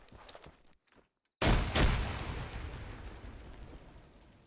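A single 40mm grenade blast in ArmA 3 bursts suddenly after a short silence, a heavy, booming detonation that rolls into a long, fading rumble, preceded by faint clicks and shuffles.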